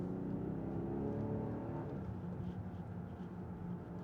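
A 2020 BMW X5 40i in Sport Plus mode pulls forward with a steady, moderately loud engine drone that builds briefly then settles, heard from inside the cabin with no talking.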